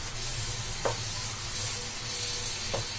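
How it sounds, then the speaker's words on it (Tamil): Jaggery, grated coconut and ghee are stirred together in a hot pan for a sweet: a continuous soft sizzle and hiss with a couple of sharp spoon scrapes against the pan. "இப்ப எல்லாத்தையும் மிக்ஸ் பண்ணிடலாம் நல்லா."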